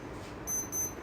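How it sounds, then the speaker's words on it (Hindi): Two short, high electronic alarm beeps sound in quick succession over faint room noise. "भाई ये क्या बज रहा है? अलार्म।"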